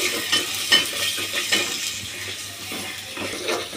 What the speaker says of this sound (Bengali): তেল গরম হয়ে গেছে, এখন পেঁয়াজ কুচি দিয়ে দেব, তারপর রসুন বাটাটা দিয়ে দেব, আদা বাটাটাও দিয়ে দেব, দিয়ে এটা একটু ভেজে নিই তেলের মধ্যে।